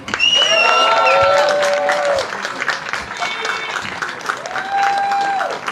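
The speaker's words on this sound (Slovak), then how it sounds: "Heligonkáři z Kopanic, prosím ještě jeden veliký potlesk." A festival audience applauds accordion players at a heligonka gathering, dense sustained clapping with a few whistles and shouts, fading slightly toward the end.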